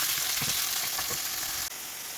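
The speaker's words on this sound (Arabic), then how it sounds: "عندي الدجاج اللي قطعته بهذا الشكل هذا، نديرو حتى هو يتسحر مع البصيله" Chicken pieces frying with onion in a pan make a steady, dense sizzle with faint stirring scrapes, close and even throughout.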